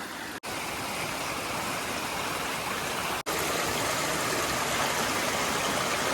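Steady, full-band rush of water at Hathni Mata waterfall in Panchmahal, Gujarat, swollen after heavy rain, roaring continuously and close with only two brief dropouts.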